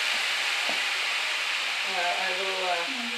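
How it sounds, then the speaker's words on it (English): White wine poured into a hot pan of chicken for chicken scarpariello sets off a loud, steady broadband sizzle throughout, with faint tonal clinks and a voice-like murmur toward the end. "we're going to add a little wine"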